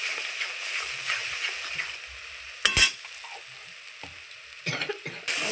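Spiced pointed gourd is mixed with salt and turmeric in a pan, giving a soft continuous sizzle with a few sharp scraping knocks and clatters of the utensil.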